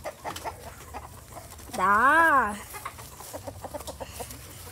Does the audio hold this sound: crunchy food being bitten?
no